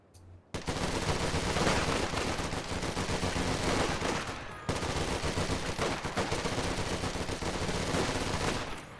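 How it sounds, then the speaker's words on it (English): Video game gunfire as US cavalry riflemen fight German Fusilier Grenadiers at close range: sustained, dense rifle and automatic fire in rapid bursts, loud throughout with a brief lull midway. "demonstration of the cavalry rifleman without the upgrade, no Thompson upgrade, versus Fox Grenadiers close range"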